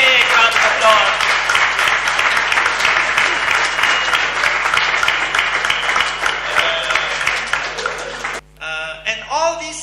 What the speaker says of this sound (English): Jack deserves a big round of applause